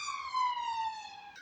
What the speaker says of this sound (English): I think that was a police car, that one.